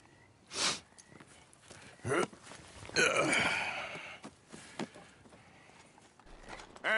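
A horse in Red Dead Redemption 2 walks with scattered hoof clops, a loud snort and some rustling tack, fairly close and intermittent.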